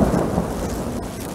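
Thunder rumbles through a severe overnight thunderstorm, a low rolling roar mixed with steady rain, loud and continuous over the brief moment with no voices.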